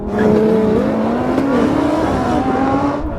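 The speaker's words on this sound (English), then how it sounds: "It bogged, and that GTR had it. It didn't launch like it should have done." A Lamborghini Huracan Performante, an Audi R8 and a Nissan GT-R launch side by side in a drag race, their engines roaring loudly with rising revs held under strain, close by and with no talking.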